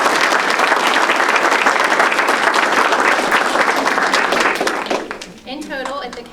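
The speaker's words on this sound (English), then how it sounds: "So first off, round of applause." At a county board of education meeting, the audience gives a loud, dense round of applause for students honored for their fair projects, which fades after about five seconds as a voice takes over.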